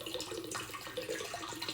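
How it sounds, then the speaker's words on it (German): Water from a whisky barrel that has stood filled for two and a half days is poured out into a container, a steady splashing pour with gurgles. No voices. "Dazu kippen wir das einfach hier rein."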